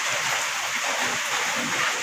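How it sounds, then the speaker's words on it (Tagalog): Steady rain falling in Lagangilang, Abra, during Typhoon Emong, a dense even hiss of drops with no breaks, heard alone. "Ngayon naman ay umuulan."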